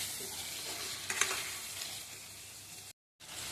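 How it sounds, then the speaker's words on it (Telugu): Chopped tomatoes stirred into sizzling masala in a pan, a soft continuous fry with scraping spoon strokes and a brief cluster of clinks, ending in a short silent gap before the sizzle resumes; no talking. "ఇప్పుడు ముక్కలుగా కోసుకుని టమాటాలు వేసుకుందామండి. కలుపుకోండి."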